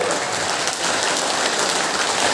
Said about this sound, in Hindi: ताली तो बजा दीजिए, बहुत देर से ताली।